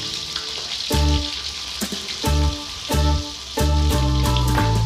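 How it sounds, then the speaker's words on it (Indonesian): Raw washed shrimp fry in hot oil in a wok, giving a loud, steady sizzle broken by repeated surging crackles as pieces are stirred and moved. "Kita goreng udangnya."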